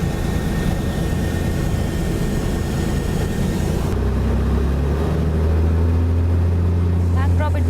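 A light aircraft engine drones steadily throughout during a climb, its tone deepening into a strong low hum about halfway through, with no talk.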